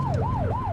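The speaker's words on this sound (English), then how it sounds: "Get on their tail and flip the siren." A police car siren in The Precinct video game wails in a fast rising-and-falling pattern, loud and close, over a low engine rumble, with about three sweeps in under a second.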